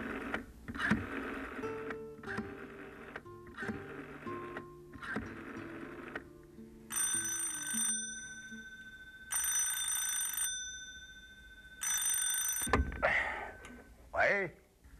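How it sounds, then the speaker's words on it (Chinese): A 1980s landline telephone gives a series of short tone pulses, then rings in three long electronic bursts, clear and close in a quiet room. "我去打个电话给东东"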